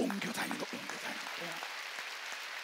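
A church congregation applauds, a faint, steady wash of clapping that fills the room after a brief spoken phrase at the start.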